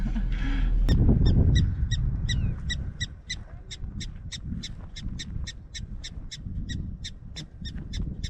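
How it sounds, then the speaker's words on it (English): A bird near Custer State Park gives a rapid series of sharp, repeated calls at a steady rhythm, fairly clear over low rumbling background noise, after a louder thump at the start. "I would think that's a bird just by the noise."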